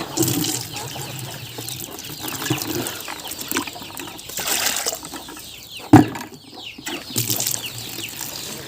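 Chickens and broody hens clucking around a summer poultry yard with ducks and ducklings, soft scattered clucks and chirps continuing throughout, with a sharper close sound near the middle.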